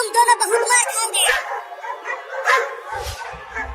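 Barks and whimpering yips from a pair of cartoon dogs in a Hindi comedy animation, scattered in short bursts under continuous animated character speech.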